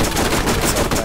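Gunshots in the Borderlands video game: a fast, continuous burst of loud, close automatic fire with no pauses, filling the whole short moment on its own.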